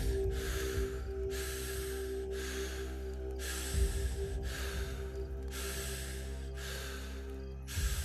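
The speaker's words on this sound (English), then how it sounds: "It's all in the breath. You don't need to think about anything, just breathe." Slow, steady breathing during a breathwork session, with long regular bursts of airy inhale and exhale repeating about every two seconds over a low, continuous background drone.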